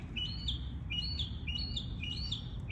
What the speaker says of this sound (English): That bird is like right next to me. So loud.